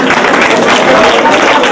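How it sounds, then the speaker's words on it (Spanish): A crowd at a 2014 environmental debate breaks into steady, loud applause, a dense wash of clapping that holds evenly throughout. "Un aplauso."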